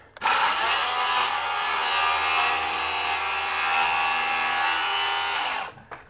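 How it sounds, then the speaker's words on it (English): A circular saw rips lengthwise through a half-inch board, spinning up sharply and holding a loud, steady whining cut for about five seconds before winding down, close and unaccompanied by speech. "the circular saw should be able to rip that off"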